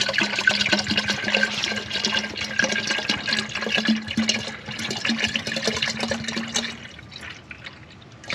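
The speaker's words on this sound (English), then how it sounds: "now we just got to put some of the brake fluid in the can here" Brake fluid poured into a can during brake bleeding: a steady, close trickling and splashing of liquid runs for about seven seconds, then tapers off into quiet.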